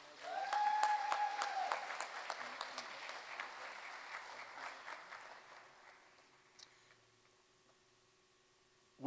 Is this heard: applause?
yes